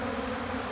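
Close, continuous buzzing of many honeybees crowded on a hive lid, cleaning up honey that dripped from stored frames, a dense steady drone with no voices.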